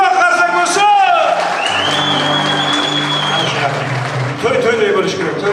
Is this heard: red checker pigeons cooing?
no